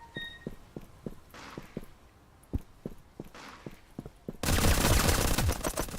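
Rapid gunfire in a homemade video game, a string of sharp evenly spaced shots that gives way to a loud, dense burst of fire near the end.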